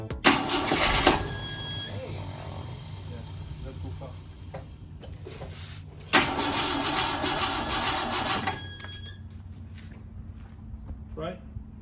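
A 1968 Ford Mustang with Holley Sniper EFI cranks over and catches twice, each attempt a burst of loud mechanical whirring and rumble that drops away into quieter rattling, with a voice speaking faintly in between.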